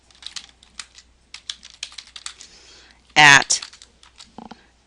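Close computer-keyboard typing taps out text in a quick, uneven run of clicks, broken by a single loud spoken word partway through.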